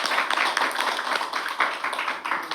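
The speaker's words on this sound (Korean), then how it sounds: "하나님께 영광의 박수 드립니다." Congregation applause at a church thanksgiving worship service in Korea: dense, steady clapping from many hands filling the room for a few seconds, fairly loud and continuous with no talking over it.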